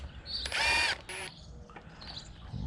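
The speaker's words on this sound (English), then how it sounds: "I'm going to put a timber lock screw through the hole" Power drill driving a 6-inch timber lock screw into a wooden stair stringer, two short whirring bursts close by, the first longer and louder, followed by quieter handling noise.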